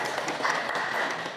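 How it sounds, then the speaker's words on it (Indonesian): Students in a classroom clap together for a group, a dense, steady patter of many hands at moderate loudness lasting just over a second, with faint voices mixed in. "Tepuk tangan dulu."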